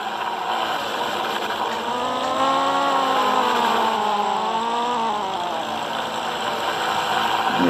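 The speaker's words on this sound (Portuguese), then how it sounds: "É complicado andar em moto." A motorcycle engine in a Roblox video game drones with a buzzy, harmonic tone that rises and falls in pitch as the bike speeds up and slows, loud and close throughout.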